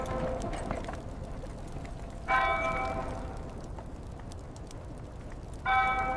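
A single bell tolls slowly in a medieval street at evening as death carts pass during the Black Death plague, two ringing strikes a few seconds apart over a low, steady background.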